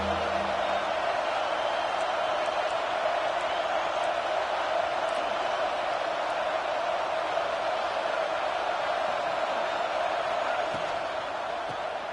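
A large football stadium crowd keeps up a constant, dense roar throughout, loud and even with no distinct peaks, while a commentator talks over it.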